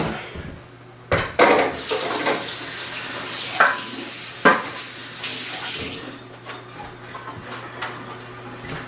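Asparagus rinsed under a running kitchen tap, a steady water hiss with clinks and knocks against the sink, close, with no talking.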